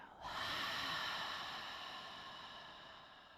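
A single long, breathy exhale during a gentle yoga session, close and airy, starting sharply and slowly fading over a few seconds with no talking over it.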